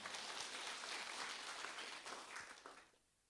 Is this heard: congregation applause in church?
yes